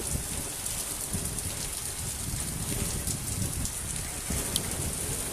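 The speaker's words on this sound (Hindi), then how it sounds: "बहुत यार तेज बारिश हो रही है।" Heavy rain pours down in Taif, a dense, unbroken hiss and patter of drops on surfaces that stays steady throughout, with no voices over it.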